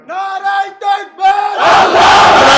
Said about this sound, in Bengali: যুবকরা একটা তাকবীর দাও